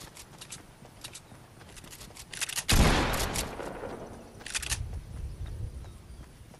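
Gunfire in the video game Fortnite, a sudden loud blast that sets off a dense burst of shots, followed by a fainter crackling burst a couple of seconds later, over background game noise.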